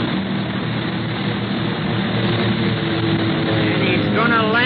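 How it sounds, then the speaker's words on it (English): Propeller airplane diving in a radio drama, a steady loud engine drone filling the whole clip, its pitch sliding and wavering near the end as the plane goes into a nosedive. "He's going into a nosedive."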